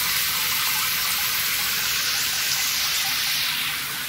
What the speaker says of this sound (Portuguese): Quando ela vem para debaixo do jato da água, ela solta mais espuma.